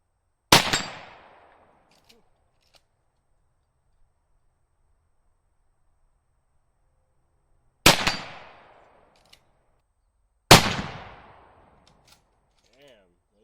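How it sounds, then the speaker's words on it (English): Three sharp, loud gunshots ring out one at a time across an otherwise quiet range, each shot followed by a short ringing decay as the rounds strike steel plates. "Damn, those rounds are freaking loud"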